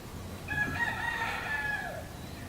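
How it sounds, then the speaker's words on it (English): A distant turkey gobble rises and falls outdoors for about a second, faint over steady background hiss, with no talking. "You can even hear the turkeys."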